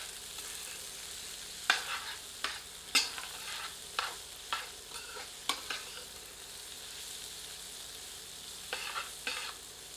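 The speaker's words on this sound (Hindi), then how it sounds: "इसे इस चर्बी के तेल में मध्यम आंच पर 2 से 3 मिनट भूनते हैं।" Onions fry in rendered mutton fat over medium heat, a steady broadband sizzle broken by about ten sharp spoon-and-pan scrapes from stirring, close and moderately loud with no voices.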